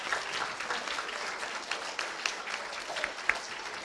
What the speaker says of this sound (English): let's go ahead and give Nancy Tom a round of applause